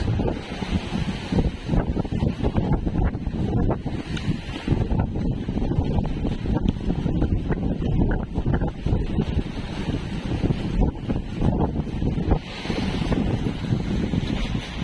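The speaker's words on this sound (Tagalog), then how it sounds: "Malakas yung hangin." Strong wind roars and buffets the microphone continuously, loud broadband rumble with gusty surges throughout, over what sounds like water and surf nearby.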